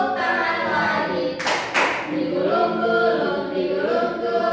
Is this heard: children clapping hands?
yes